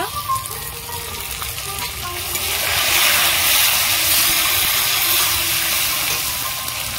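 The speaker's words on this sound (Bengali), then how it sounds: "এবার আমি টমেটো কুচি দেব" Chopped tomato goes into onions frying in hot oil, and the sizzle swells into a loud, rushing hiss that holds steady close by.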